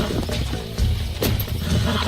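A wild stallion bucks and neighs in the Red Dead Redemption video game, with sharp whinnies and thumping hooves over steady game ambience.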